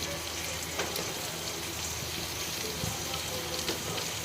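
Dried red chillies, green chilli, garlic and carrot sautéing in a pan for carrot chutney, giving a continuous soft sizzle and crackle with occasional sharper pops, close and steady.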